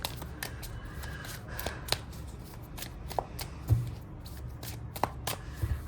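A deck of tarot cards is shuffled close by in quiet surroundings, giving soft papery flicks and crisp snaps at an irregular rhythm.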